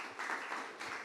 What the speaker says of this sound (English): Maybe the crowd can give them a round of applause